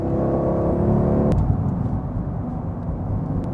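A front-engined, rear-wheel-drive Aston Martin V8 Vantage on the move, its engine tone holding steady and close, then breaking off at a gear change into a lower, rougher drone that carries on to the end.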